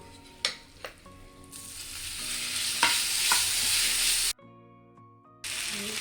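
Cooked dal and rice tipped into a sizzling tempering for khara pongal, then stirred in the pan: a steady loud frying hiss with a few sharp scraping knocks and a brief cut-out near the end.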